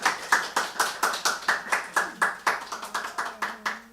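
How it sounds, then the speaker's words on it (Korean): Church congregation clapping together in a steady, rhythmic beat of about four claps per second that is close and distinct, easing off slightly toward the end as a low hum begins. "감사합니다라고 한번 박수 한번 이렇게 쳐드리기를 부탁합니다."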